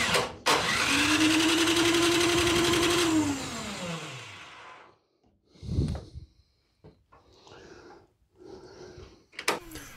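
A snowblower's electric starter cranks the engine for about five seconds, a loud steady whirring grind that winds down, followed by a few brief clanks and scattered mechanical knocks with quiet gaps between them.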